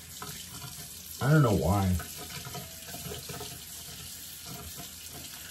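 Water runs steadily from a bathroom tap during tooth brushing, a continuous close hiss throughout, with a person speaking briefly over it near the start.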